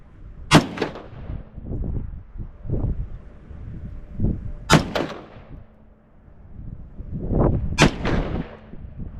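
A .458 SOCOM AR-15 rifle fires IMR4227 handloads: three loud, sharp reports spaced about four seconds apart outdoors, with wind noise and low rumbling between shots.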